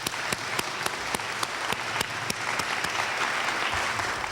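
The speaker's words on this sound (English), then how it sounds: "So I'd like to give them a round of applause" Applause from an audience at a council meeting, a dense, steady patter of many hands clapping close by for about four seconds, with no talk over it.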